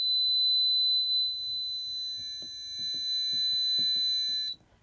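Addressable fire alarm sounder giving a battery failure warning: a steady high electronic tone with faint harmonics held for about four and a half seconds, with soft knocks and handling noise underneath, then cut off.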